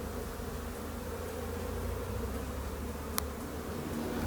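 Honeybee colony in an opened beehive during a March inspection, a dense, steady low buzzing of many bees, fairly quiet and continuous, with one sharp click near the end.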